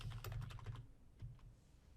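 Brief burst of computer keyboard typing as a username is entered during a Windows Server sign-in, a quick run of close, crisp key clicks for about three quarters of a second, then a short second flurry before trailing off.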